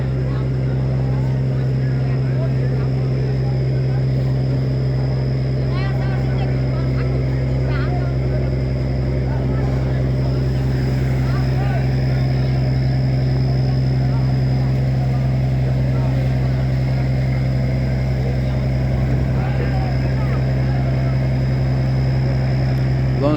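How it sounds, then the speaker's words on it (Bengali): Passenger launch Pubali 7 arrives at Mithua launch ghat, its engine a loud, steady, droning hum throughout, with a voice talking over it. "লঞ্চটি চলে এসেছে মিঠুয়া লঞ্চ ঘাটে।"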